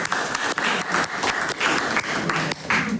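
A live audience applauds to welcome a saxophonist onto the stage, steady dense clapping throughout with a few louder bursts, loud and close, with no talking over it.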